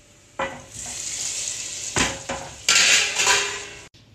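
Whole dried round red chillies and cumin seeds frying in hot oil for a tadka over golden-browned onions for mutton daal gosht, sizzling loudly in bursts with metal pan and spoon clatter.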